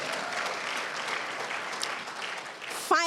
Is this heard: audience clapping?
yes